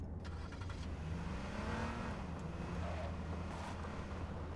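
A car engine in the H1Z1 King of the Kill battle royale game drones steadily with a faint revving rise, heard over constant low wind-like rumble, fairly quiet and continuous without speech.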